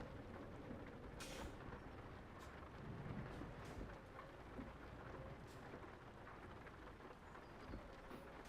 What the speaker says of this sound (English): And it's starting to rain, of course.